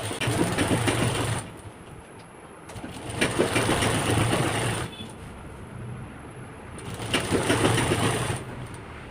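A sewing machine stitches the back neck of a nightie, sewing the cross piece in place. It whirs in three close bursts of steady motor hum separated by short pauses.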